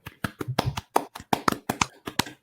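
Sharp hand claps struck in a quick, uneven series of about a dozen, close and fairly loud, with no talk over them.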